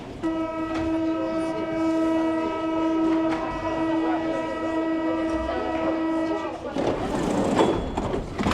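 Paris metro train in an underground station, its loud sustained horn-like tonal hum and rumbling carriages droning steadily for several seconds before cutting to a burst of broadband hiss and clatter as it moves or brakes.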